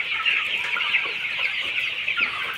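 Sonali chickens cluck continuously in a farm shed, a dense, close chorus of many birds with no let-up and no voices over it.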